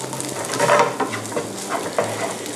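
Rice tossed and stirred in a hot pan over a high flame for Thai green curry fried rice with gourami fish, steady sizzling broken by scraping stirs and light clinks of utensil on pan, with no voices.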